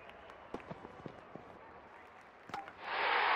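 Crowd at an India vs Pakistan T20 cricket match in a stadium, scattered claps and thuds giving way to a loud surge of cheering near the end.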